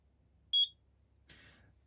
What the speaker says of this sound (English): the machine will beep when it's loaded the designs